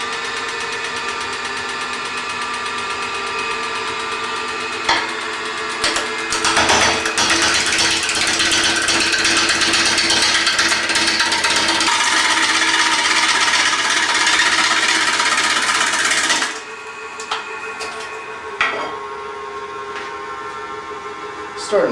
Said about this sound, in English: First thing I'm going to do is cut this piece round and get it balanced.